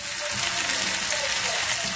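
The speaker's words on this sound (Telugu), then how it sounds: "చికెన్ పీసెస్ అన్నీ కూడా వేసుకొని కొంచెం స్లో ఫ్లేమ్లోనే వేసుకోవాలి డీప్ ఫ్రై" Chicken pieces deep frying in hot oil over a slow flame, a steady close hiss and crackle of bubbling oil that holds even throughout, with no talking.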